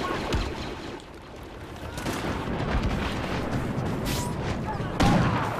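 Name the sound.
impact grenade explosion in Star Wars Battlefront video game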